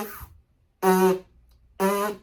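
Two short lip buzzes on a trombone mouthpiece, each about half a second, bright and reedy with strong harmonics, close and fairly loud, separated by silence after a faint opening buzz.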